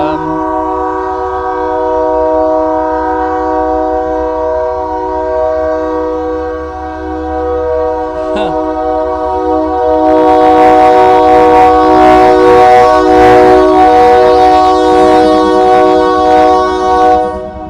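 A train horn blares in a long sustained chord while a train rumbles and clatters past, growing louder and rattling toward the end.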